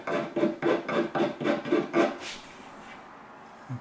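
Edges of a 1952 Fender Tweed Pro amp's tweed covering being scuffed back to front to add wear, a run of about seven short rasping strokes in steady rhythm, close and fairly loud, then quiet.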